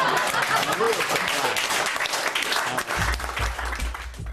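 Applause from an audience watching close-up sleight-of-hand magic, a loud, dense wash of clapping that carries on throughout, with a low rumble entering near the end.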